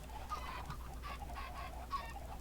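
Several chickens cluck in short bursts, quiet and steady, with a few sharper calls standing out. A low hum sits underneath.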